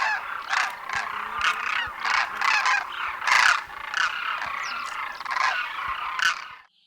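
A flock of demoiselle cranes in Khichan calls in a dense, overlapping chorus of loud, rolling trumpeting and honking notes that pulse and repeat across several seconds before trailing off abruptly, with no talk.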